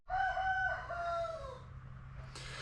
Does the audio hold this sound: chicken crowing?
yes